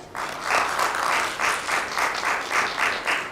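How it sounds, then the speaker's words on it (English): Audience applause for a panelist at a domestic violence awareness event, a steady, moderately loud wash of many hands clapping with slight swells. "A hand of applause for Da Yang, family mediator."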